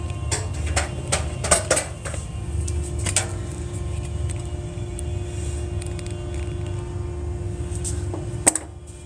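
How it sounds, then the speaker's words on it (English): Staple gun fixing upholstery fabric to a chair, giving several sharp clacks in a quick cluster and then scattered single snaps over a steady low hum, with one loud close shot near the end. "going to put another temporary staple in the side here to keep that stretched"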